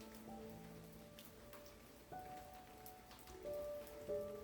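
Light rain patters softly on a surface, with scattered drops over a calm background and some faint tonal hum here and there.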